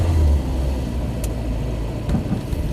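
An old Skoda Favorit's engine runs at a low, steady idle close by, a muffled rumble with small wavering bumps and no voices.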